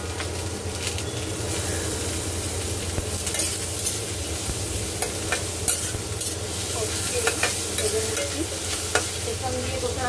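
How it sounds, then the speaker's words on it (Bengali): Onions fry in a pan while cooking mouri fish, making a loud continuous sizzle up close, with scraping stirs and light clicks of a spatula throughout. "পেঁয়াজটা ভাজা হোক"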